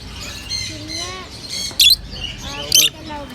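Caged birds in a pet shop give quick chirps and tweets with two sharp, piercing squawks, one near the middle and one near the end, close by over a low background murmur.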